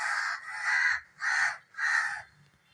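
Crows caw loudly outdoors near a home kitchen, three or four harsh, drawn-out calls separated by short pauses, close and clear.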